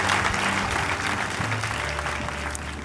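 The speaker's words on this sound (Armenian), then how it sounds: "Արամեին եկեք ծափարություններով ճանապարհենք դեպի վազքուղի" An audience at the final of a comedy league show applauds continuously, a dense, loud wash of clapping from a crowd that holds steady for a few seconds.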